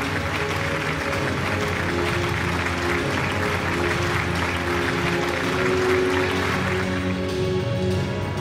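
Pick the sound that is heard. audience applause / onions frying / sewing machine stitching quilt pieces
audience applause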